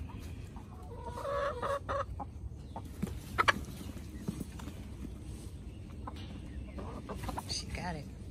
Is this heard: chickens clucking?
yes